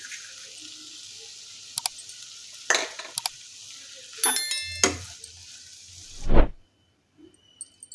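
A spoon scrapes and stirs rice through sweet corn gongura palav in a pan, a few separate clinks and scraping strokes over a faint sizzle, with one louder scrape near the end.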